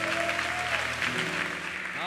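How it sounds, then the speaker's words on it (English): A church congregation gives a burst of hand clapping during a worship service, loud and continuous, with a sung or sustained voice and music tones carrying underneath throughout. "Let's give the Father one big hand clap offering"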